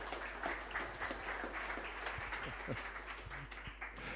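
A meetup audience at a WordPress gathering in London claps together in a moderate, even burst of applause that lasts a few seconds, with scattered louder individual claps.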